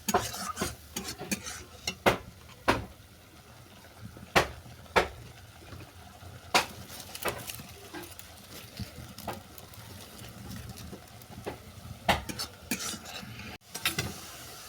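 Spice masala being stirred and sautéed in a pan for a mustard-paste morala fish dish, with a steady low sizzle under repeated sharp scrapes and clinks of a spoon against the metal, close and fairly loud.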